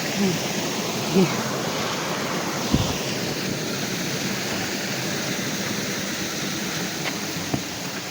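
Steady broadband rush of a creek flowing outdoors, continuous and fairly loud, with a few faint knocks and brief voices under the water noise.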